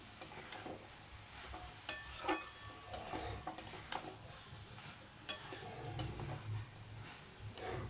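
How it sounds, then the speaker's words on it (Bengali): Drumstick flowers and potatoes stir-fried together in a pan, with steady scraping and stirring strokes and occasional utensil clinks over a soft, continuous sizzle, close by. "ফুল আর আলুগুলোকে একসাথে বেশ 1-2 মিনিট ধরে ভালো করে একটু নাড়াচাড়া"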